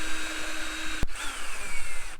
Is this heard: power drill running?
yes